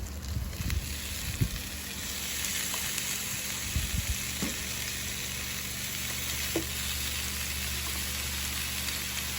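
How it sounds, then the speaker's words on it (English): Eggplant slices sizzle steadily on an indoor grill, a continuous close hiss of frying with a few soft clicks and taps of handling early on. "we're ready to hit our eggplants on the grill"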